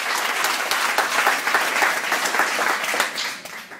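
A crowd of guests applauds at a public wrap party in Montpellier, steady dense clapping throughout with a few sharper individual claps standing out, fading slightly at the very end.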